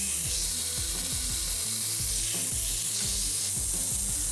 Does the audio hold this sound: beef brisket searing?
yes